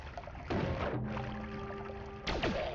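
Water spilling out of a sprung trap in the video game Noita, a splashing, pouring rush that starts abruptly and fills the short stretch, with a second surge near the end and no voices.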